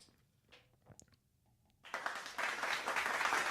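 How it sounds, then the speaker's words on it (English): A round of applause from a small live audience bursts in after a quiet moment, a dense, steady patter of many hands clapping that grows and sustains to the end. "Give him a round of applause."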